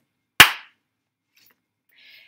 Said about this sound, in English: Door slams.